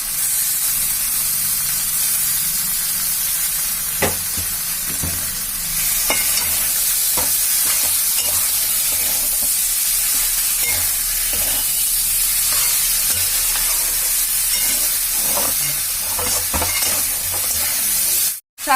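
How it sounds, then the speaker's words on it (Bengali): Chopped tomatoes sizzle in a pan of frying pointed gourd, potato and rohu fish curry, a steady close hiss broken by stirring scrapes and soft knocks throughout. "এবার টমেটো দিয়ে দেবো, কুচনো টমেটো।"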